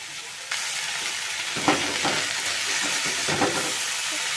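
Chopped amaranth greens dropped into a pan of sautéed vegetables, giving a steady sizzle and hiss with a sharper burst as they land, then soft stirring scrapes and crackles close by.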